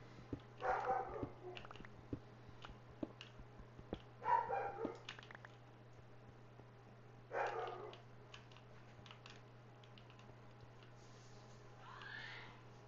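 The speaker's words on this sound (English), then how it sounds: "Dogs at the door, just barking at anything that walks by." Dogs barking at a door in a farming and storage video game: a few separate short bursts of barking several seconds apart, fairly faint over a steady low hum.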